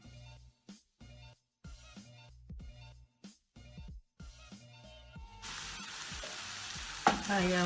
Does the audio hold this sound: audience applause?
no